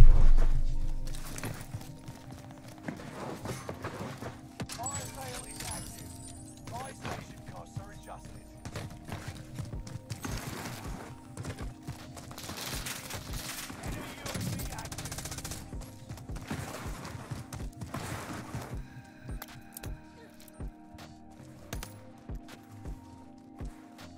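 Gunfire in the video game Warzone, rapid bursts and scattered shots crackling at mid distance through a busy firefight, under excited player voice chat.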